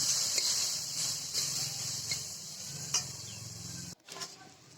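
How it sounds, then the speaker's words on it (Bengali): Spiny gourd and onion frying together in oil with whole cumin, turmeric and salt in a kadai, a steady close sizzle with occasional light stirring scrapes, cut off abruptly near the end. "কাঁকরোল আর পেঁয়াজটা একসঙ্গে দিয়ে হলুদ নুন পরিমাণ মতো দিয়ে এটা ভেজে নিচ্ছি"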